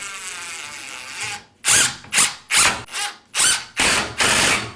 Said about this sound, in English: And then we can attach screws right into the header.